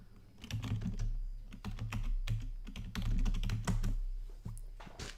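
Rapid keyboard typing clatters close and fairly loud in bursts, keys tapping unevenly throughout with no voices over it.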